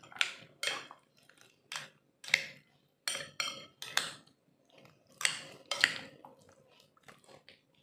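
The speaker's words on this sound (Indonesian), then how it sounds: "kita aduk ya, semuanya aduk sampai tercampur rata" A spoon stirs a marinade for Korean spicy and honey chicken in a bowl. Close, irregular wet squishes and clinks of utensil against the bowl come in short bursts with pauses between, and no talk.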